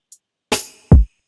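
Single kick drum hit from a smooth R&B-style beat, preceded by a faint tick and a brighter snappy hit, landing as a short, deep, punchy thump up close.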